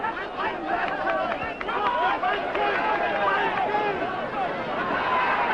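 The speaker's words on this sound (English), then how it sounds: "And all the encouragement now is coming from the British corner. They can be heard above everybody else in this Mexican ballroom" At a 1975 Jose Napoles vs John H. Stracey boxing bout in a Mexican ballroom, a small group of British fans shouts and cheers loudly above a busy crowd, their voices rising in repeated urging calls over constant hubbub.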